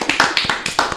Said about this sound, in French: Tu devrais pas l'applaudir